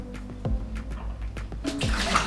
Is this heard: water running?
yes